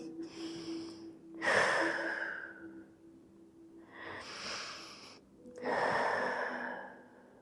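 Deep breathing during a Pilates class: three slow, breathy inhale-exhale cycles, close and fairly soft, with no talking.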